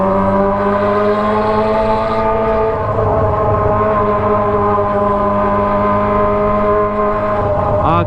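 A Kawasaki ZX25R fitted with a Toce exhaust revs moderately on a concrete village street in a residential area, giving a loud, close, steady engine drone with slight rises in pitch and no talking.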